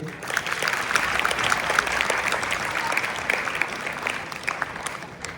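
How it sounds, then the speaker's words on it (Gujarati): A school audience at a farewell and prize-distribution function gives the guests on stage a warm welcome with steady, dense applause that stays full and even throughout. "આપણે દરેક જણ તાળીઓના ગડગડાટ સાથે આપણે એમનું હાર્દિક સ્વાગત કરીએ"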